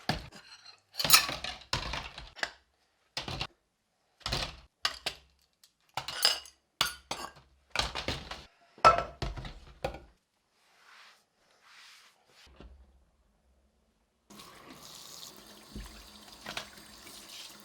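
Dishes washed by hand in a home kitchen sink make a run of sharp clinks and clatters of plates and cutlery. A stretch of running tap water follows near the end. No one speaks.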